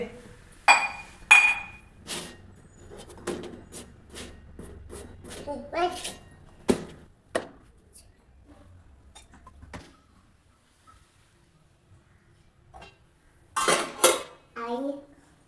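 Dishes are handled and washed at a home kitchen sink: irregular clinks and clatters of pots, metal utensils and glass come in bursts, then a quiet stretch, then a final cluster of clatter. Voices talk in between.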